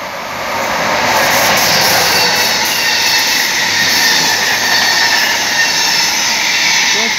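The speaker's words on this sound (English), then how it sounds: "We have a tram down there." A tram passes through a residential neighbourhood in Stockholm, making a broad rumbling roar that swells in over the first second and then holds steady and loud to the end.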